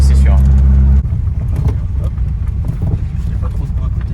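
A Peugeot 106 XSi with a short factory gearbox roars loudly. Its engine drones steadily for a second, then turns into a rougher, busier roar that holds throughout, while people talk over it.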